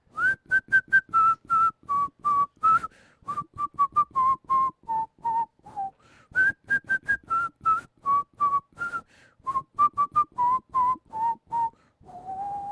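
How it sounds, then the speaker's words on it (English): A person whistles a tune alone in two long phrases, with clear bright pitched notes that step gradually downward in a steady rhythm, close and fairly loud, with a brief pause in between. "It's not like my whistle could be an instrument."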